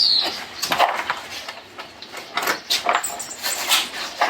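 Metallic keys jingle and clink in scattered bursts, close by, with light knocks and rustling between them, at a ranch.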